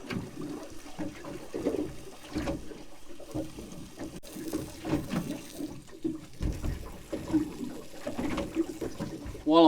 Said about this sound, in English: While I'm washing my hands over the side